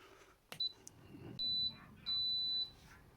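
An air fryer signals the end of cooking with electronic beeps: a short chirp, then two long steady tones in a row, clear and close over low room hum.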